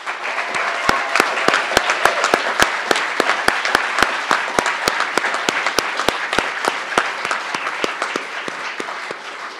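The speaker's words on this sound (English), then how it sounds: "let's have another round of applause for our PhD graduates" A large audience at an economics graduate commencement ceremony applauds PhD graduates, dense sustained clapping with sharp individual claps standing out, loud and close throughout.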